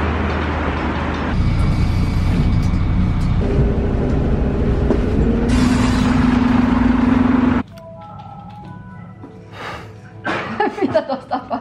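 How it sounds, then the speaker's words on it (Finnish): A bus drives along a nearby road, a loud, steady rumble close by for about seven seconds that then cuts off abruptly, followed by quieter voices and laughter. "Mä kuulen tuolta bussin äänen."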